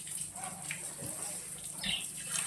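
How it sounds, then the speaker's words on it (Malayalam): Water is poured to rinse soapy suds off a floor during home cleaning, a faint continuous splashing and gushing with soft background noise, no speech. "ഞാൻ വെള്ളം ഒഴിച്ചൊന്ന് നന്നായിട്ട് കഴുകി കൊടുക്കുന്നുണ്ട് കേട്ടോ"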